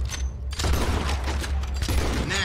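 Rapid bursts of gunfire crackle in a Red Dead Redemption 2 shootout, dense overlapping shots and booms rolling continuously over a low rumble throughout.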